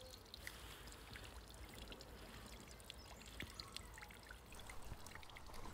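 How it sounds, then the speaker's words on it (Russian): A small garden fountain trickling steadily, a soft continuous splash and gurgle of running water close by, with no talking. "я так люблю смотреть на свой фонтанчик и слушать, как журчит вода"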